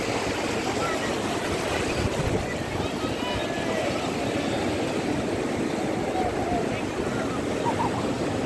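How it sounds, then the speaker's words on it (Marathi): Sea waves break on a Konkan beach in a steady, loud wash of surf that stays dense and unbroken throughout, with no clear individual crashes standing out. "तर मंडळी बघू शकता इकडे छान लाटांचा खळखळाट आवाज येतोय."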